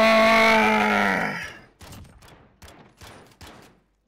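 Uzi fire in Call of Duty Modern Warfare: a loud sustained tone fades out, followed by four short, sharp bursts of submachine-gun shots spaced about evenly, fairly close and with no talk over them.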